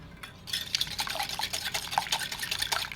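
Eggs thinned with a little water are whisked briskly in a bowl, a fast, continuous rhythmic clinking and sloshing of the whisk against the sides, close and fairly loud with no talking.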